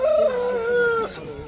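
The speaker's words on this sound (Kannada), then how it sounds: "ಇಲ್ಲೊಂದು ಹುಂಜ ಇದೆ, ಮತ್ತು ಅಲ್ಲಿ ವೈಟ್ ಕಲರ್ ಒಂದು ಹುಂಜ ಇದೆ ನೋಡಿ" Aseel rooster at a weekly poultry market crows once, a fairly loud, drawn-out call lasting about a second over a low background murmur.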